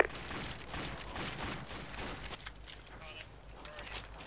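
Bursts of gunfire from a squad firefight in the military shooter Arma 2, crackling at a moderate distance as a continuous rattle of shots, with voices murmuring faintly underneath.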